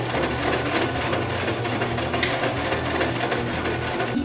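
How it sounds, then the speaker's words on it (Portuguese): Sewing machine stitching a folded shirt sleeve forward and then in reverse to lock the seam, a close, continuous rapid mechanical whir with ratcheting clicks throughout. "Vou passar uma costura simples. E vamos pra frente. Agora eu vou retroceder. Só pra arrematar."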